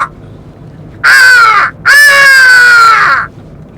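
A crow's cawing played over a sound system: one short caw followed by a longer, rasping caw, both loud and close, standing alone against quiet.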